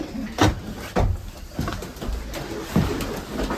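Racing pigeons coo in a loft at dusk, several low throaty coos rising and falling in irregular bursts, close by, with faint rustling and shuffling of birds between calls.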